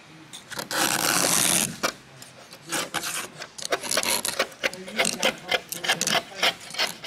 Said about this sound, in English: We're going to get to scraping.